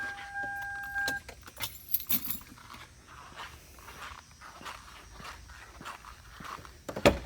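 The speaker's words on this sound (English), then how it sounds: "Let me snag these keys out." Keys jangle and clink near the start as they are pulled out inside a 5-speed Toyota 4Runner, a few brief metallic rattles followed by quieter shuffling and faint movement noises.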